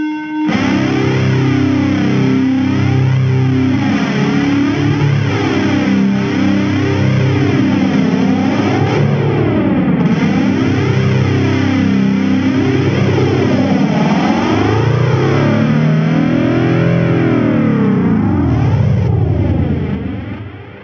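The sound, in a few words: tape echo ramp-up effect on Space Echo delay pedal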